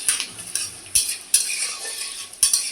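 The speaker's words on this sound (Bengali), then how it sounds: "আর একটু ভালো করে ভেজে নেব।" Whole cloves, cardamom and cinnamon fry in a pan, with soft sizzling beneath a few sharp spoon-on-pan scrapes and clinks as the spices are stirred.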